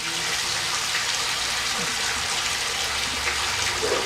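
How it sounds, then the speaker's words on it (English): Water running steadily with a continuous splashing hiss, moderately loud and close, with no clear talk over it. "Hopefully the water's not too noisy."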